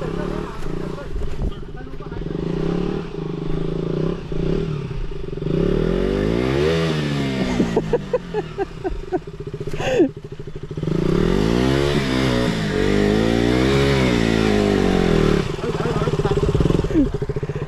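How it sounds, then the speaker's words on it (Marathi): A motorcycle engine revs hard again and again, close by, with clattering and scraping as the tyres spin and slip in deep mud on a ride to Bhavli Dam near Igatpuri, Maharashtra. "टायर स्लिप होत आहेत जोरदारच"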